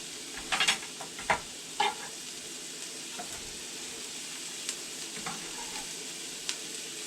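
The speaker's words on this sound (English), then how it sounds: "I'm gonna throw in my shallots." Shallots and onion frying in a pan, a steady soft sizzle with a few sharper stirring scrapes and clinks near the start, close and unaccompanied by speech.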